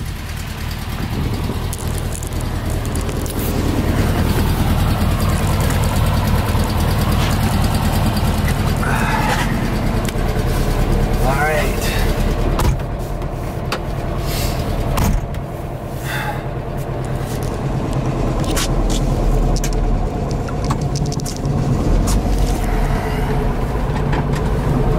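A 1959 Porsche Convertible D engine runs steadily and loud for the whole stretch, a dense low rumble with occasional brief knocks and clatters over it.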